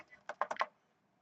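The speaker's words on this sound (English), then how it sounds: "And let's see if the keyboard works." Quick keystrokes on an Asus GL551J laptop keyboard, a short burst of four or five close, crisp clicks followed by quiet.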